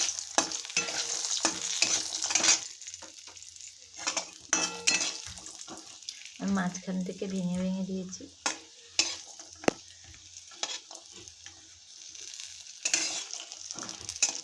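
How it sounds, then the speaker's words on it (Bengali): Handmade kalai dal badi dumplings fry in oil in a wok, giving a bright continuous sizzle with stirring scrapes and utensil clinks; someone speaks briefly in the middle. "তেলের উপরে আমি কলাই ডালের বড়িগুলো ভেজে নেব।"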